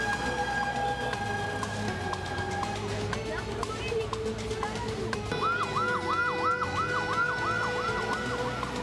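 Fire engine sirens wail near a palm oil factory fire in Medan, Indonesia, a steady tone first, then a rapid repeating yelp over traffic and crowd noise, loud and continuous.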